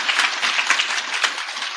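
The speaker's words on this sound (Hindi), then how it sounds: "जोर की ताली, जोर की ताली, जोर की ताली।" An audience at a spiritual discourse on aarti breaks into loud, sustained clapping. Dense overlapping claps fill the whole moment evenly, close and bright, with no voice on top.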